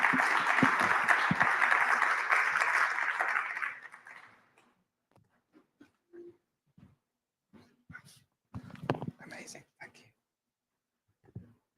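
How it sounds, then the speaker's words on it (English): Conference audience applauding panelists at a European Jewish gathering, a dense round of clapping for about four seconds that fades out, followed by quiet with scattered faint knocks and shuffles. "I would like to ask you to applaud all four of them for answering my questions"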